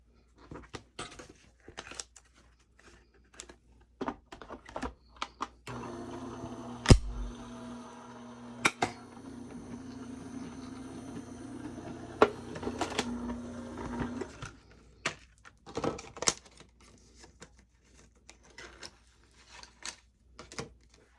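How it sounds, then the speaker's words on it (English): An Anna Griffin Empress Mini die cutting machine runs with a steady mechanical whir for several seconds, followed by scattered clicks and handling noises as paper and dies are moved around. "And then we will also run this through the Empress Mini."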